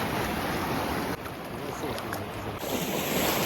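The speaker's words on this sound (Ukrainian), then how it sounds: "трохи є хвилі" Sea waves wash ashore at a beach in Cap Salou, Spain, a constant broadband rush of surf mixed with wind buffeting the microphone, loud and close, with no clear breaks.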